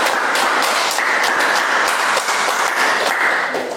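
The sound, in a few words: classroom applause for presenters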